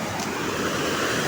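Water tumbling down from above at a small rural waterfall, a steady, close, full rushing roar with no break and no voices.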